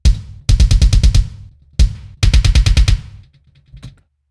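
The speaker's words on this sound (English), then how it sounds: "So all the plugins off sound like this with that kick drum." An unprocessed kick drum from a metal production plays alone in two bursts of rapid, punchy double-bass hits. Each burst is six to eight thuds, dry and close, with a few faint trailing taps at the end.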